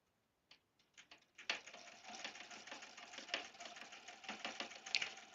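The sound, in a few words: sewing machine stitching table runner seam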